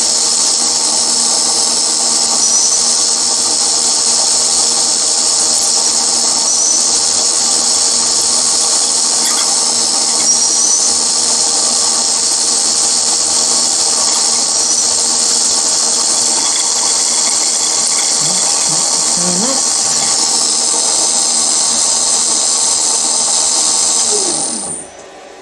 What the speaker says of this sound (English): It's only aluminium and it's going through quite well.